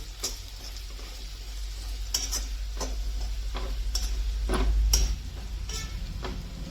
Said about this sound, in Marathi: लसणाचा कच्चा वाज जाईपर्यंत हे परतायचे तेलावर